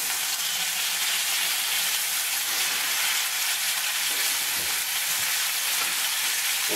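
Steak frying in a pan gives a steady, loud, even sizzle that goes on without a break, with no voices over it.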